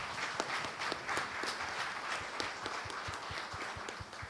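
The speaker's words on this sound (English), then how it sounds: "Please give them a big round of applause." A forum audience applauds its panelists in a steady, dense wash of clapping that carries evenly through the whole stretch, fairly near and without pause.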